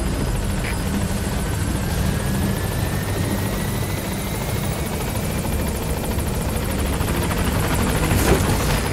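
The Pequod helicopter arrives at a landing zone in Metal Gear Solid V: The Phantom Pain, a loud, steady rotor roar with a thumping beat and engine whine that fills the whole stretch without letting up.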